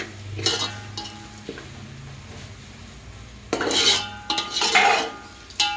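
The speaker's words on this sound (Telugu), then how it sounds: "ఇట్లా గుజ్జు గుజ్జు ఉన్నదంతా విడివిడిగా చేసి గంటెతోటి కలపాలి" Ladle stirring a frying mixture in oil while making uggani, with repeated metallic scrapes and clanks against the pan over a low sizzle, close and busy in bursts.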